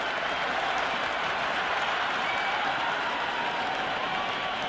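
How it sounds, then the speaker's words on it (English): A cricket crowd in the Cricket 26 video game breaks into dense, sustained applause and cheering, a steady wash of clapping from a large stadium audience with a commentator's voice faintly underneath. "The spectators are absolutely buzzing right now."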